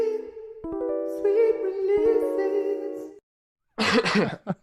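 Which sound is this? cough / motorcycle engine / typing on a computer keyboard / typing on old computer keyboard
cough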